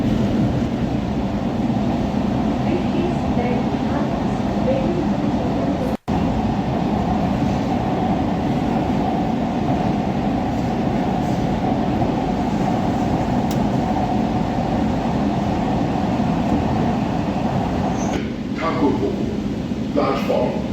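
A Kolkata Purple Line metro train runs from Majerhat toward Joka, a continuous rolling rumble from inside the carriage with one brief break partway through.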